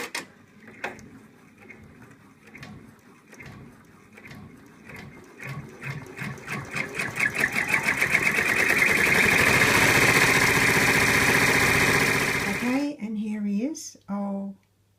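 An embroidery machine stitches out the final part of an in-the-hoop elephant design, a rhythmic needle chatter that builds to a loud steady run, then stops as a voice begins speaking.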